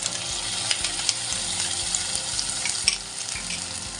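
Cumin, chili and ginger-garlic pastes fry with onions in a pan for a Bengali bele fish curry, making a steady close sizzle with occasional light clicks from stirring and no talking.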